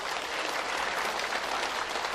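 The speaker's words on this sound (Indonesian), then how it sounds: "Saya pikir tepuk tangan untuk kita sekalian." A congregation at a thanksgiving Mass for a priestly ordination breaks into dense, steady applause that fills the whole stretch without voices.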